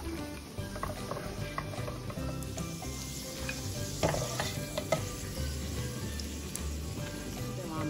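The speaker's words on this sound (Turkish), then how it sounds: "Ve kalan bamyaları da aynı şekilde kızartmaya devam ediyoruz." Close, continuous sizzling of okra frying in a pan, with occasional soft stirring clicks and no talking.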